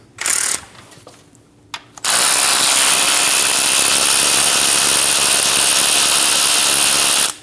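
A 10mm socket on a ratchet takes out two bolts during oil cooler hose work on a Chevrolet Express 2500 van. A few short mechanical bursts are followed by a loud, sustained whirring ratchet run close to the microphone.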